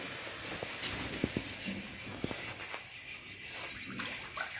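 Water poured into a cooking pot on a village stove while making idli: a faint, soft hiss of flowing water with a few light clinks and splashes.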